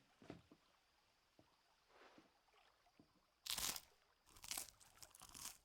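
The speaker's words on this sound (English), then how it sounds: "That's some crunchy bread." Bread from a tavern is crunched in Final Fantasy XVI, faint scattered crunches followed by a few louder, sharp chewing bites near the end, with no talk over them.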